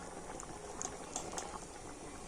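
Chana dal boils in a pot with a dense, steady bubbling simmer and scattered small pops, faint and continuous with no voices.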